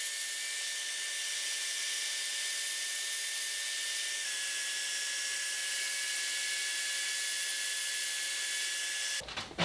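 A Festool Domino joiner cuts loose-setting mortises along a miter with a dust extraction vacuum running alongside, producing a steady, loud high-pitched whine and hiss that holds level almost the whole time before cutting off abruptly near the end.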